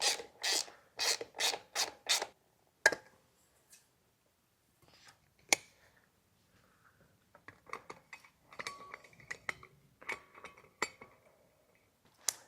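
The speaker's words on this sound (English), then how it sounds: "Let's get this factory cover off and throw on our R&S." Parts being handled while the factory air filter cover comes off a Harley-Davidson Dyna Super Glide: a run of sharp close scraping and rubbing strokes, then scattered clicks, clinks and light mechanical taps, with no talk.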